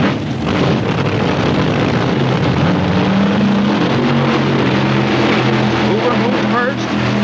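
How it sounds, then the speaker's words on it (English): Mid-1960s drag racing at a Fuel Eliminator final, fuel dragsters roaring down the strip in a loud, continuous engine drone with shifting pitch, heard from the stands amid crowd and commentary noise. "Fuel Eliminator final between Tom Hoover and Gene Turk follows the stock car run."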